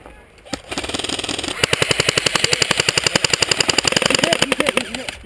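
Airsoft guns fire in a rapid, steady burst of sharp pops during an outdoor game at SC Village, starting after a brief lull and running loud and continuous with shouting voices underneath.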